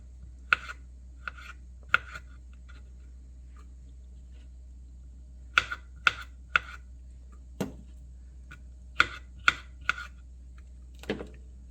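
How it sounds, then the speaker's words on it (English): A knife chops olives on a cutting board in sparse, sharp clicks, some single and some in quick clusters, with quiet gaps between them over a low steady hum. "we're gonna cut up some olives"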